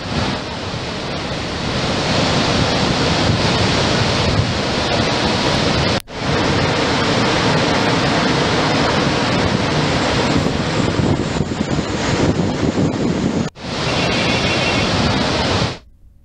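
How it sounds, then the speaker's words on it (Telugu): Heavy floodwater pours through the opened crest gates of a dam on the Krishna river, making a loud, continuous roaring rush that fills the whole stretch, broken only by two very brief cuts. "26 క్రస్ట్ గేట్లెత్తి నీటిని దిగువకు విడుదల చేశారు అధికారులు."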